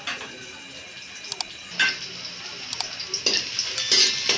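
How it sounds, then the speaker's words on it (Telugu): Onions for chicken curry fry steadily in a pan with a constant broadband sizzle, punctuated by scraping stirs and light clinks of a utensil against the metal, with no talk. "ఈ ఉల్లిగడ్డలు అడుగు మాడకుండా బాగా వేపుకోవాలండి"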